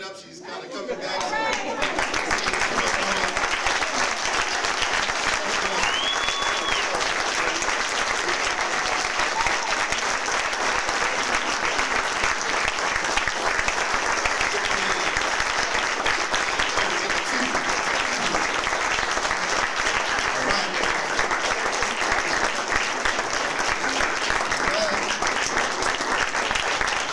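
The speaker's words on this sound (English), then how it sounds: "Y'all can clap it up." An audience applauds steadily after a lecturer is introduced, a dense, loud wash of clapping hands that swells in within the first seconds and holds without a break, with a few scattered voices in the crowd.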